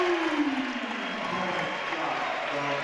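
Crowd cheering and applauding at a high school basketball game in the Wapakoneta High School gym, Kenton visiting, a steady roar of noise filling the whole stretch with a faint whistle-like tone sliding downward early on.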